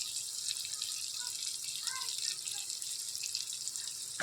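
Sauce gravy pours into a wok of frying chowmein vegetables, giving a hissing, bubbling sizzle that stays steady and close with small liquid splashes.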